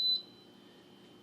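A single short high electronic beep from a rice cooker right after its power button is pressed, clear and close, then a faint low hum in a quiet room.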